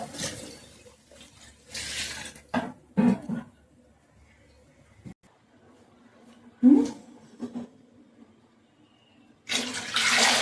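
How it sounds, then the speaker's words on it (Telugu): Water pours into a cooking pot in three separate bursts, each a loud rushing splash with quiet gaps between and faint handling noises in the pauses. "ఇప్పుడైతే వాటర్ పోస్తున్నాను ఇటువంటి గిన్నెతో అయితే మూడు గిన్నెలు అయితే నీళ్ళు పోస్తాను"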